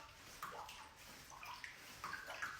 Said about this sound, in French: vous allez devoir vider cet évier qui est plein d'eau